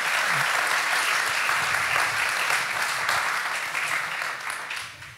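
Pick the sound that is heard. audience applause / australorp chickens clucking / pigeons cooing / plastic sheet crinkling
audience applause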